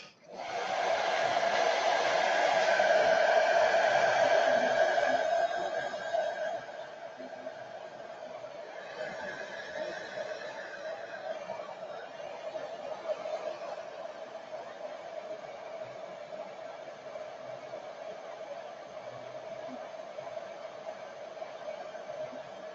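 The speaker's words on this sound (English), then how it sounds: "the air dryer." A hair dryer blows steadily while paint dries on a model USS Dallas submarine, loud at first and then settling to a lower, continuous whir for the rest of the clip.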